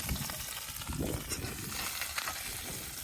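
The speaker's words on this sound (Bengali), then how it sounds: "তেলের উপর এখন আমি এটাকে ভাজবো।" Onions fry in oil outdoors, giving a soft, steady sizzle with light stirring scrapes. It stays fairly quiet and continuous, with no talking over it.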